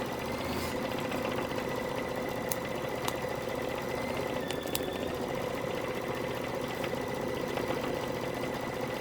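Embroidery machine stitching a tea towel design, a steady mechanical whirring hum running continuously at moderate distance, with a few faint clicks and no talking.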